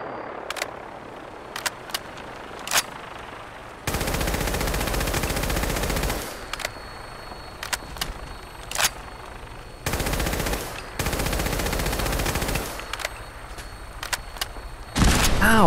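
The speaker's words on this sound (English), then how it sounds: "This freaking gun is amazing." Gunfire from a weapon in the video game Fallout 4: sharp single shots early, then long sustained bursts of rapid automatic fire alternating with shorter volleys, loud and close.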